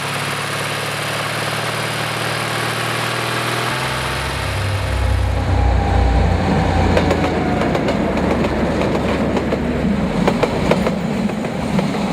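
A train in New Zealand rumbles loudly nearby, a steady low roar of engine and wheels with clicking rail sounds as it rolls past.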